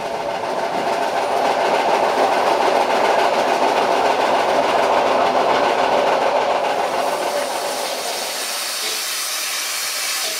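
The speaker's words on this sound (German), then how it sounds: "dass der mitgeführte Doppelstockwagen der ehemaligen Lübeck-Büchener Eisenbahn eine heftige Flachstelle hat" A train runs with a double-deck car of the former Lübeck-Büchener Eisenbahn that has a severe wheel flat spot, heard from aboard as a continuous loud rolling rumble and rail noise without talking.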